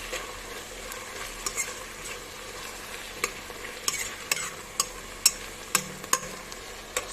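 Tomatoes and parsley stirred in a hot pan for a red-pepper karnıyarık, a soft steady fry with a run of sharp utensil scrapes and clicks growing more frequent, nearby and fairly quiet, no voices.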